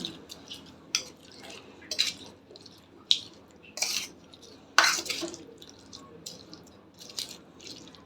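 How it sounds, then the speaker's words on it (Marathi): Koshimbir salad being mixed in a bowl right after hot tempering is poured in: close, irregular soft clinks and wet squishing stirs, spaced a second or so apart, with no talking. "तडका दिला की छान मिक्स करून घ्यायचं"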